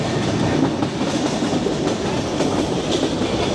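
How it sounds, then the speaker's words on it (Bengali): The Chilahati Express passenger train runs along the rails with a loud, steady rolling rumble and faint clickety-clack of wheels, continuous and close, no voices heard. "চিলাহাটি এক্সপ্রেস ট্রেন আমরা ধরলাম।"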